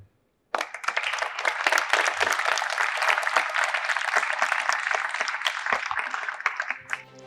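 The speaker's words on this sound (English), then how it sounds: "Please keep on applauding" A Model United Nations audience breaks into sudden, dense applause after a speech on peace. The clapping comes in close and loud after a brief silence and holds steady before fading near the end.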